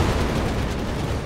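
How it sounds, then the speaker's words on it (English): Mines detonating in the Company of Heroes 3 wartime strategy game, a dense, loud, continuous roar of blast noise filling the whole moment with no talking. "Mines further going off here"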